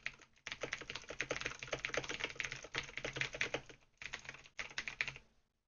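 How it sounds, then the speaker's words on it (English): Typing on a Razer BlackWidow Chroma keyboard with Razer Green clicky switches, heard from about half a metre away: a rapid, steady stream of sharp clicky keystrokes with two brief pauses, then a stop. "Here's a typing test on the Razer Black Widow Chroma with the Razer Green clicky switches from about 50 centimeters"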